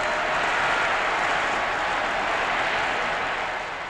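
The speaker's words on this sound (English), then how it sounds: "The vast crowd went wild," A vast crowd roaring and shouting at Nasser's speech announcing the reclaiming of the Suez Canal, a dense, continuous wash of cheering that fades slightly at the end.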